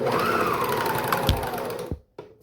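Serger sewing machine finishing an edge on fabric for small doll clothes, a fast whirring, rattling run with a rising-then-falling pitch, stopping abruptly and followed by a couple of soft clicks.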